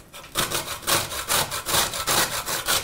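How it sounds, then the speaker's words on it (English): Parsnips are grated on the large side of a big box grater in quick rhythmic strokes, each a close, dry rasping scrape in an even back-and-forth pattern, with no voices. "I'm going to use this big box grater because it really nicely gathers it all in the bottom"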